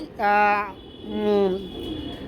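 Pigeons at a large pigeon farm in Gazipur, Bangladesh: two drawn-out, throaty coos close by, each lasting about half a second, with a short pause between them.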